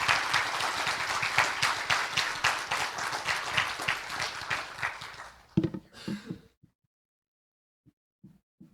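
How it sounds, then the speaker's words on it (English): A church congregation at a worship service applauds its graduates with a dense round of clapping that lasts about five seconds, then fades to a few scattered claps and soft thumps before near silence. "Can we have a round of applause for all these graduates"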